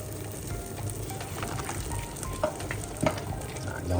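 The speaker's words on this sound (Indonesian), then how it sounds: "Sekarang ditumis lagi ya." Blended peanut and chili sauce sizzles and fries in a pan, a steady crackle with stirring scrapes and a couple of sharper knocks, close and fairly loud with no voices.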